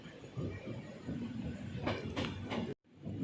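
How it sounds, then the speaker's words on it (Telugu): Express train slowing on the approach to Nidadavolu junction at night, a continuous rolling rumble with a few sharp clanks near the end before a sudden cut; no voices. "అందుకే మన ట్రైన్ స్లోగా ఉంది దీనికి ఎక్కడ కూడా స్టాప్ ఉంది నిడదవోలు జంక్షన్లో"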